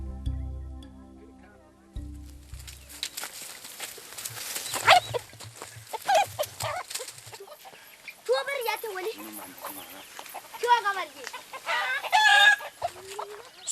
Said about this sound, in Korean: 소와 염소를 목축하는 하마로족은 집집마다 닭을 서너 마리씩 기릅니다